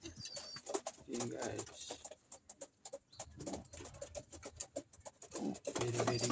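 Racing pigeons coo in a loft, soft repeated coos and scattered bird calls mixed with bursts of nearby noise, while someone talks over them at intervals.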